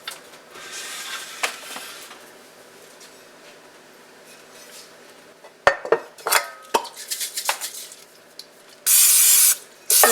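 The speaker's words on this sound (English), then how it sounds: "I'm going to spray our bundt pan and we'll pour it in." Cooking spray hisses into a bundt pan while baking a banana sour cream cake: scattered clinks and knocks of pans and utensils first, then a short, loud, continuous spray burst near the end followed by another brief hiss.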